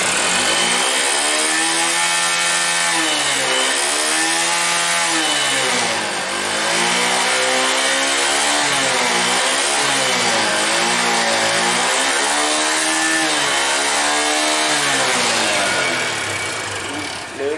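A Suzuki engine being tested by a mechanic is revved hard again and again, its loud, steady drone rising and falling in repeated waves for the whole stretch, close by, with no pause to idle.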